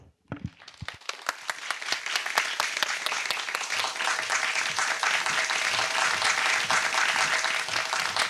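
An audience at a littleBits and Korg press conference in Japan applauds to welcome Paul Rossman, a few sharp claps growing quickly into sustained, full applause that holds steady.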